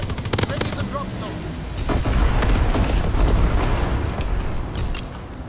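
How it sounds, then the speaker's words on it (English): Call of Duty Modern Warfare 2 bomber airstrike dropping incendiary payloads, a dense roaring barrage of booming explosions and crackling gunfire that swells loudly and continuously throughout, with a voice speaking in the mix. "Mw2 bomber inbound. Dropping incendiary."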